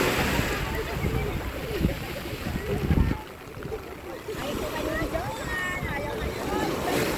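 Strong waves surge and wash around a boat at sea, with steady broadband water roar and gusting wind buffeting the microphone, rising to a heavier crash before settling into a continuous churn.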